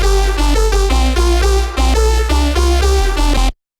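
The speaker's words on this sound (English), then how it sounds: "So first off, we're going to just play our lead," A synth poly bass lead plays solo without drums: a gritty, heavy tone in a choppy rhythmic pattern of short stabbed notes with a deep low end, loud and upfront, cutting off abruptly near the end.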